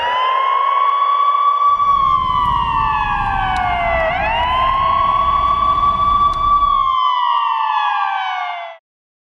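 An ambulance siren wails loud and close, its rising and falling tone sweeping steadily with a brief dip midway, over a low vehicle rumble, then cutting off abruptly at the end.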